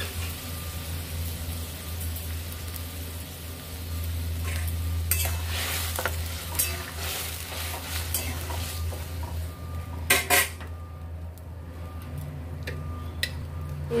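Boiled potato and bottle gourd are stirred in a frying pan with a spatula. Scraping strokes and occasional sharp metallic knocks run over a low steady sizzle, close and moderately loud, with no talking.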